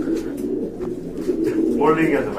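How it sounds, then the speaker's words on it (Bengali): A pair of big pouter pigeons coo in low, rolling throbs close by, with a person talking over the calls. "এইখানে দেখতে পাচ্ছেন এক জোড়া পোটার কবুতর"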